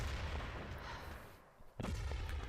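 Grenades bursting in the multiplayer shooter Urban Terror: a sustained low rumbling barrage of game explosions, fairly loud, with a sharp fresh blast near the end.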